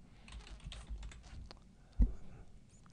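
Typing on a computer keyboard, a quiet patter of soft key taps over low hum, with one louder thump near the end.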